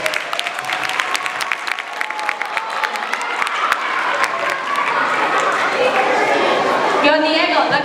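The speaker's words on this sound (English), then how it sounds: "Give a round of applause." Applause from a school audience at a sixth-grade winter concert, a steady dense clapping with some cheering throughout, ending with voices starting up as the clapping continues.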